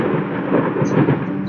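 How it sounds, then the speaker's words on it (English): A thunderstorm in the horror video game Layers of Fear rumbles continuously, a low, steady roll mixed with the hiss of rain and no talk. "how long is this thunderstorm?"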